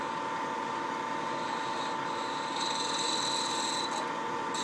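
Skew chisel scraping across a turned wooden clamshell box on a lathe, a steady close rasping hiss with a slight rise in brightness partway through, no talk.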